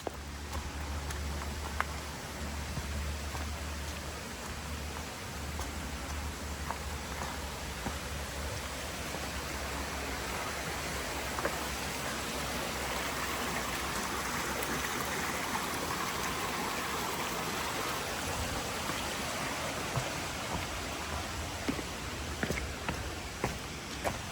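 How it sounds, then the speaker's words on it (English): Small waterfall beside the Appalachian Trail in New York during wet weather, a steady broadband rush of falling water continuing evenly throughout, near and alone without voices. "It's a nice little waterfall back there."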